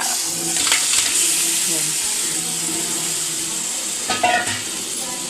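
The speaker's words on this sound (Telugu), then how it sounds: "ఇలా వచ్చే వరకు వేయించుకోవాలి" Crab masala fries in a pan with a hissing sizzle and occasional stirring clatter, heard close and fairly loud, with some faint background voices.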